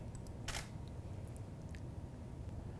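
A single-lens reflex camera fires one crisp shutter click early on while taking a festive still life photo indoors, followed by faint small mechanical ticks over a low, quiet background hum.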